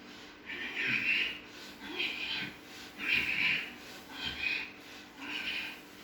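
Rhythmic breathing during yoga shoulder rotations, five slow airy breaths at steady intervals, close and soft, with a voice speaking quietly alongside.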